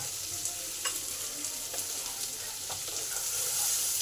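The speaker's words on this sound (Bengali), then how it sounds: "পেঁয়াজটা হালকা করে ভেজে নিয়েছি" Chopped onion with a little salt fries in a pan, a steady soft sizzle with occasional scraping stirs of a utensil throughout.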